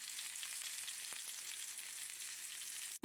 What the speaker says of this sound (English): Do you hear the sizzling?